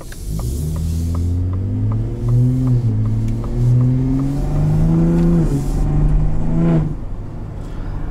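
2022 Ford F-150 Raptor truck exhaust revving while driving with the window open, several rising and falling rumbling pulls with deep throbbing tones, loud and close, gear changes between surges.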